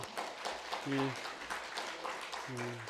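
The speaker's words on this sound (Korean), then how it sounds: "우리 박수 한번 치겠습니다" At a university church worship service, the congregation claps in a brief, busy burst while a voice speaks over the applause.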